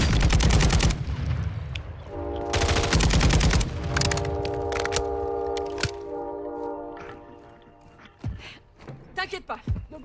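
Loud automatic gunfire bursts from a first-person shooter game, rapid dense volleys in the opening seconds followed by sustained tonal game sound and scattered sharp shots, with players talking over the action.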